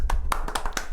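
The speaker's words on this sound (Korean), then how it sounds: "박수." Five separate claps ring out evenly in a studio at the opening of a Korean exam-prep talk, crisp and close, with a low background hum and no voices.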